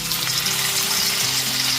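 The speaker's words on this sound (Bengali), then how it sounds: "গ্যাসের ফ্লেমটা হাইতে করে সমস্ত ম্যারিনেট করা পনিরের টুকরোগুলোকে ভেজে নেব।" Marinated paneer pieces frying in hot oil in a kadai over a high gas flame, a dense, close hiss of sizzling that holds steady throughout with a low hum beneath.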